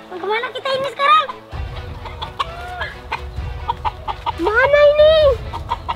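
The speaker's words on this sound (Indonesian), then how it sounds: "Wah, ada ayam juga." Chickens cluck in several short bursts, close and fairly loud, while people talk over them outdoors.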